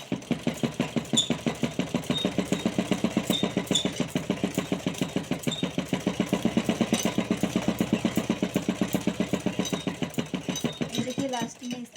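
An electric sewing machine runs a long steady stitch along a blouse seam, its needle hammering in a fast, even mechanical rhythm close by before slowing to a stop at the end.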